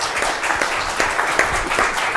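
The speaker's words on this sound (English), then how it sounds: "So, can I ask you, with your applause, please welcome Nabil Fahmy" Steady audience applause greets the Egyptian foreign minister as he is welcomed at a policy forum, a brief continuous patter of many hands without speech.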